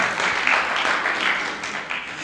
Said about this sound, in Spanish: Bueno, un aplauso a Arturo, que ha asistido igual que todos los demás